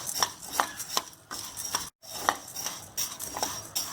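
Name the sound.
stirring urad dal roasting in a pan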